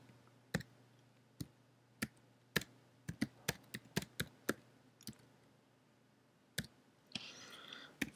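Fingers tap a computer keyboard in short isolated clicks and a quick burst of keystrokes, close and crisp against a quiet room, then a brief rustle at the end.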